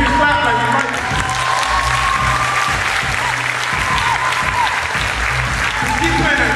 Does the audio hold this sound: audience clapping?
yes